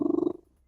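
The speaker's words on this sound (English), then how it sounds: "Sounds like a cat." A domestic cat purrs or vocalizes close by in a steady pulsing burst that breaks off after about a third of a second, leaving near silence.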